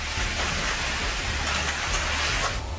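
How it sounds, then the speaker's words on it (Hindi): Heavy rain from Typhoon Fung-wong pours down in Albay province, Philippines, a dense, steady roar of downpour that holds without a break from start to finish and carries no voices. "टाइफून फंगवोंग के आने के बाद ऐसी बारिश हुई कि इलाके में बाढ़ आ गई"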